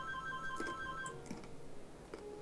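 A faint electronic phone ringtone plays in short repeating tones over a low background hum, with no speech.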